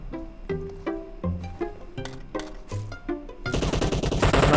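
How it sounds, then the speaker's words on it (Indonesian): Rapid gunfire in PUBG Mobile, a battle royale shooter: several bursts of automatic shots crack in close succession, then a dense, loud fusillade of overlapping shots takes over for the last second, with no talking. "Gue ditembak dari belakang jadi gue maju lewat kiri."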